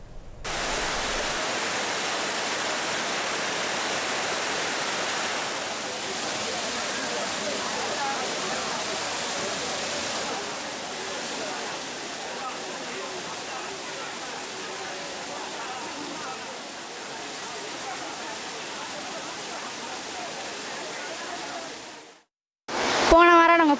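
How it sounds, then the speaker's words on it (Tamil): Courtallam waterfall in heavy flow roars as a dense, loud, continuous rushing wash that holds steady for over twenty seconds before cutting off, followed by a brief burst of other sound. "இதனால் குற்றாலம் அருவிகளில் தண்ணீர் வரத்து அதிகரித்து உள்ளது."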